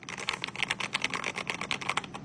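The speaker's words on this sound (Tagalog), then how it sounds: "Wala nang magre-reklamong maingay yung keyboard ko." Rapid, steady keystrokes clatter on a Lofree mechanical keyboard, close and fairly loud, forming a continuous run of crisp clicks with no speech.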